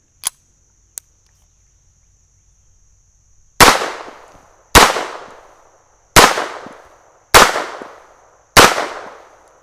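Smith and Wesson Model 41 .22 pistol fired outdoors: five sharp, loud shots about one second apart, each with a ringing decay, preceded by two faint clicks over a steady high insect-like whine.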